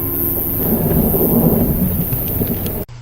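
Thunder from a thunderstorm rumbles heavily amid steady rain, a loud, dense roar that holds for nearly three seconds before cutting off abruptly.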